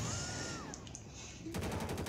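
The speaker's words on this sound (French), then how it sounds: "On tire sur tout ce qui bouge" Gunfire in GTA 5 with the LSPDFR police mod, a continuous stretch of game noise with faint distant shots, then a rapid burst of repeated automatic fire near the end.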